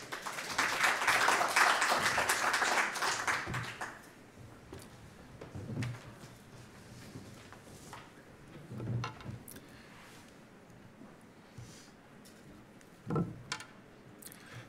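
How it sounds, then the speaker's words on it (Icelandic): Applause from the audience at an open public city meeting on independent living for older people, a burst of clapping for a few seconds that quickly fades, followed by faint room noise and scattered small knocks. "Gefum honum gott klapp."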